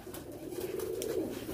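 Racing pigeons cooing softly in a loft, a low murmuring coo repeated over a brief moment, fairly faint and alone.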